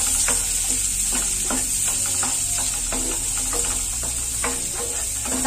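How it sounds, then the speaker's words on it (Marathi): Chopped onion and green chilli sautéing in hot oil, a steady close sizzle with repeated scrapes and clacks of a spoon stirring in an even rhythm. "कांदा छान असा परतून घ्यायचा।"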